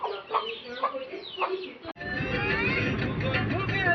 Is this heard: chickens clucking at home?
yes